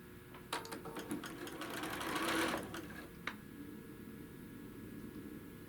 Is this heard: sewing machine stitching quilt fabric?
yes